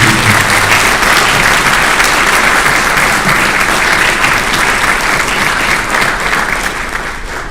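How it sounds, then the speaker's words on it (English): A crowd at a Republican primary candidate forum in Moscow, Idaho claps steadily in sustained applause, loud and even, tapering slightly toward the end. "please give them a round of applause for the candidates"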